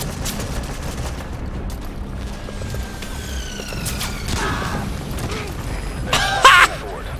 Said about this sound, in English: God, mortar strike.